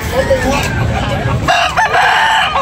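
At a busy chicken market in Tabunok, Talisay, Cebu, roosters crow loudly and close, one long call overlapping another amid constant background chatter and bird noise.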